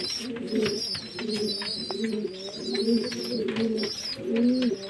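Pigeons coo close by while they drink water, giving repeated throaty, rolling calls that continue steadily throughout.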